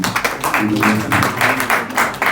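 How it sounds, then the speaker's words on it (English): A round of applause from guests at a press soirée, dense clapping in pulsing waves, loud and close, filling the whole moment with a low murmur beneath. "Give me a round of applause."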